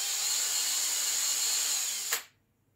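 A power drill whines steadily and loudly at close range for about two seconds, bores through metal, then cuts off abruptly into near silence.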